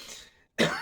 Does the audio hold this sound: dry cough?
yes